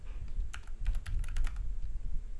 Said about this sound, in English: just hit enter on your keyboard once